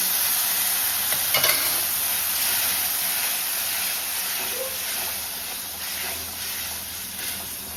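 Drumstick soup pulp with a little stock water is stirred over an asafoetida and cumin tempering in a kadhai, giving a steady close sizzle and hiss broken by occasional scraping stir strokes, with no talk.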